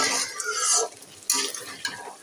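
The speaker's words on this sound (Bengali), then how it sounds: "এখানে মশলা কষিয়ে নিচ্ছি" Mixed spices being sautéed in a pan for a curry, with loud close scraping strokes of a spoon across the pan and a soft sizzle underneath, in a few separate bursts.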